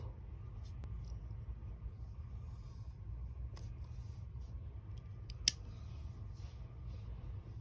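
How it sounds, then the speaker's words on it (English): Scissors snip through crochet yarn, giving a few quiet clicks and one sharp louder cut, set over a constant low rumbling background hum. "I pull this, my last working string, I pull it tight, and then I cut it off"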